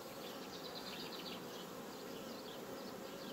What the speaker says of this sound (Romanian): Albina vrea să o protejeze.